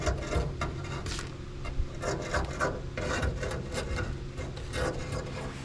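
Excess insulation material is cut away inside a Mercury Cougar Eliminator car, with a dense, continuous rasping and scraping that rubs along at close range without pause.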